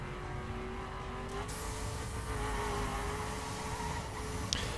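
Dodge car in The Crew racing game, its engine holding a steady, loud drone that climbs slowly in pitch under a continuous road rush, with a brief click near the end.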